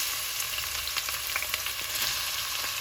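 Chopped onions fry with whole spices in a hot pan, giving a steady hiss and crackle with a few light stirring clicks, close and even throughout.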